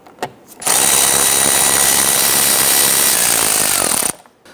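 Power tool whirring loudly and continuously for about three and a half seconds while loosening 8mm fender liner bolts on a 2011-2019 Ford Explorer, close up.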